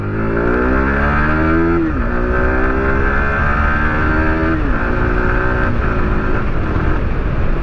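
Yamaha R15 V4 sport motorcycle accelerating hard from low speed, engine revving up through several gear changes with rising then dropping pitch at each shift, loud and close, recorded from the rider's position.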